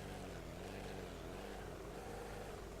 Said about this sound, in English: just listen to the engine, how I'm tapping the power to the engine